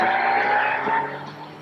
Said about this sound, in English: get behind the wheel of a souped-up passenger car and feel the speed